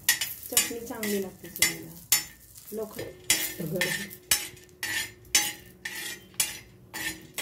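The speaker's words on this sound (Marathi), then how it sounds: "खोबरं भाजूया. ते पण चांगलं भाजायचं." Coconut roasting in a pan, stirred with a spoon scraping the metal in a steady rhythm of repeated strokes, close and moderately loud, with a soft sizzle underneath and brief speech in between.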